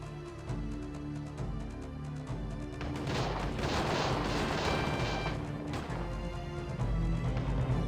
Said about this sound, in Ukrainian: Зараз знову кулемет в дії.